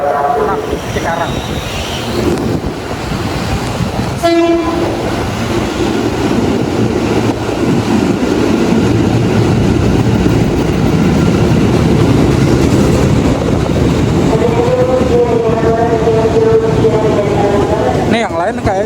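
A Merak–Cikarang train arriving at an Indonesian station, with a loud broadband rumble and rolling roar that builds and holds, brief squeals and tonal notes, wind buffeting, and people talking nearby.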